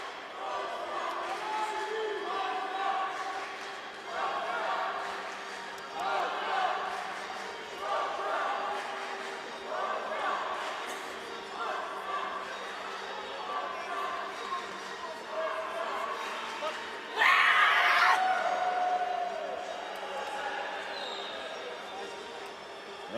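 Polish crowd in an indoor hall at the EuroArm 2017 arm wrestling championships, cheering and chanting in rhythmic surges that swell and fade, with one loud burst of cheering near the end and talk mixed throughout.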